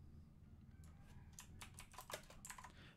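Keys clatter on a computer keyboard in quick, uneven bursts over a low steady hum, the clicks clustering more densely in the second half.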